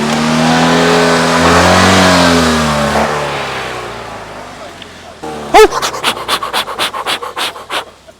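The engine of a Fiat 126p (Maluch), pulled out of the bushes, revs loudly and drives off, its pitch rising and then fading. A run of rhythmic, pulsing puffs follows close by.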